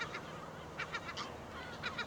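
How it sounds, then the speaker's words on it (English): Several geese honk in short, nasal bursts, a few calls close together, moderately near over a soft outdoor background. "Plenty of geese around."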